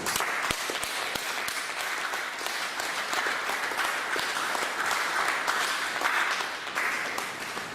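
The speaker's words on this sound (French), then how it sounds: "Est-ce que tu peux applaudir son règne ce soir?" A church audience applauds at an evangelistic service, a steady, dense wash of clapping from many hands that holds at an even level throughout, with a few sharper nearby claps standing out early on.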